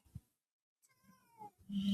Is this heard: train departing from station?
no